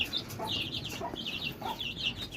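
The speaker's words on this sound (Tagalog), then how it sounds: "Yun po yung isa natin manok. Naglilimlim." Soft, steady clucking from a brooding hen nearby, repeated in short murmuring bursts against a quiet background.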